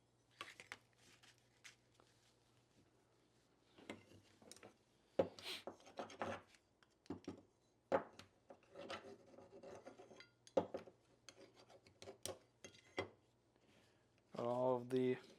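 Copper foil being burnished onto stained glass edges, faint intermittent rubbing and scraping strokes in short bursts, heard close and quiet while a person talks over them.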